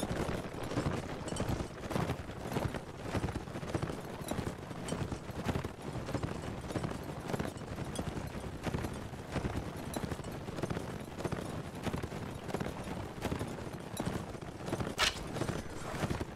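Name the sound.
horses galloping in a charge, Mount & Blade: Warband video game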